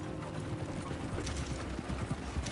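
Horse hooves clip-clop in Red Dead Redemption 2, a quick, steady rhythm of muffled beats at close range over a constant background of game ambience and mechanical rumble.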